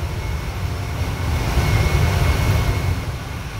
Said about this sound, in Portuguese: o voo 904 da Lion Air decola da Indonésia com destino a Bali